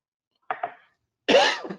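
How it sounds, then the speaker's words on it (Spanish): Two short coughs, then a louder, harsher cough with a throaty rasp, close by with silence between. "Perdón que me agarró esta tos"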